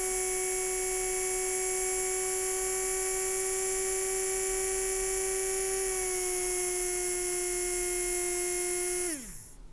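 A small DC motor driven through an L298N motor driver whines at a steady high pitch, then slows and winds down to a stop near the end, a thin electric tone over faint hum.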